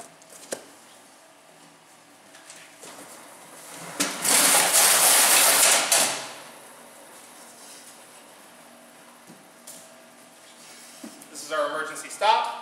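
A 3M carton sealer, model 200A, runs and tapes a box, giving a loud two-second burst of whirring tape application amid quieter machine hum, clicks and brief sounds of box handling.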